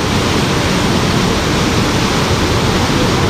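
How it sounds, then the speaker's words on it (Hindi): Jatmai waterfall in Gariyaband in flood, a loud, steady roar of rushing water filling the whole clip with dense broadband noise and no pauses. "ये देखिए क्या प्यारा सा वाटरफॉल बन रहा"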